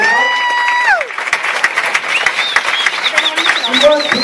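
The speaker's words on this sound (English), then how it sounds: "Give them both a round of applause" A boxing crowd applauds and cheers for two heavyweight fighters after a round, a tonal sound and voices mixing in over scattered clapping.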